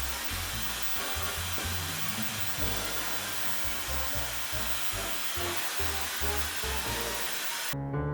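A Dyson hair dryer in a luxury hotel room runs steadily, its airy high whoosh constant throughout, with a low pulsing rumble beneath and an abrupt stop at the very end.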